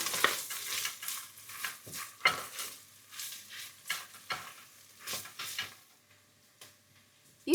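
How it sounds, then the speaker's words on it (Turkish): Pepper paste and tomato paste being sautéed for a Turkish topalak stew: a spoon repeatedly stirs and scrapes through the thick paste in a hot pan, with a steady sizzle between the strokes and no talking. "Bir tatlı kaşığı biber salçası, 1 yemek kaşığı domates salçası koyalım. 1-2 dakika daha kavuralım."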